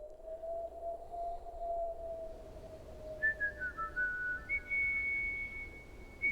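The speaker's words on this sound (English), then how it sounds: "Yeah, man, that whistle is iconic." A clear, pure whistled melody with a little reverb in a song: one long sustained note gliding down, then higher wavering notes, alone and fairly close.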